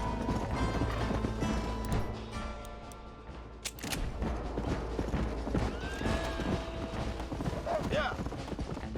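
A horse in the Western video game Red Dead Redemption gallops with steady clip-clopping hoofbeats and gives a neigh, all over a dense, busy game soundscape, with a voice speaking briefly.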